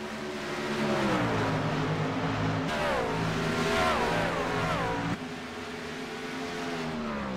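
Race cars roaring in a sim racing game on an oval track, a steady, loud engine drone with rising and falling pitch as cars accelerate and shift, continuous with no talk.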